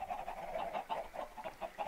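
Chickens on a chicken farm in the video game Minecraft cluck in a quick, regular series of short, clear calls, moderately loud, with no talking over them.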